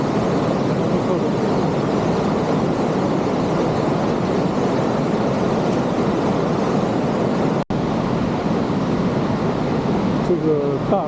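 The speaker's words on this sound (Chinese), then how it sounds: "看瀑布" A waterfall below a large dam in a forested Canadian mountain setting roars in a dense, steady rush of water. The sound stays unbroken and loud throughout, with faint talk underneath.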